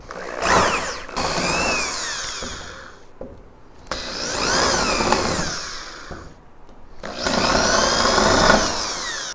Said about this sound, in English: I'm going to go ahead and drill out these rivets now and see if we can't remove this tail panel